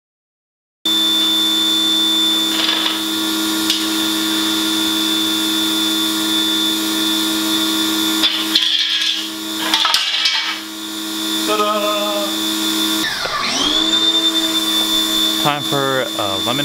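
A power tool whirs steadily while backing out many screws from a vintage Volkswagen roof rack, a continuous loud motor drone with pitch bends and brief pauses as it moves between screws.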